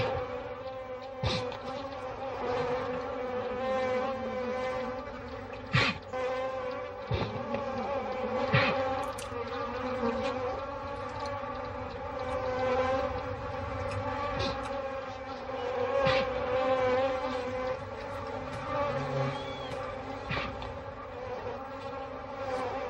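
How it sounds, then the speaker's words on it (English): Swarming African bees drone continuously on the savanna, a thick, close buzzing hum punctuated by occasional sharp passes of individual bees, with no voices. "African bees, like everything else, are desperate for sustenance."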